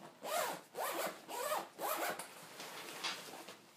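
Zipper on a kite controller carrying bag pulled in four quick strokes, each a close rasping zip, then softer rubbing and fabric handling.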